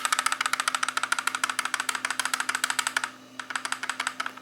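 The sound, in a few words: rattling of a rear-view mirror car DVR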